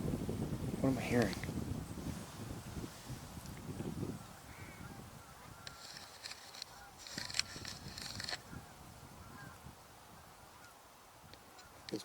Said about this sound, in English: It's mostly ring-necked ducks.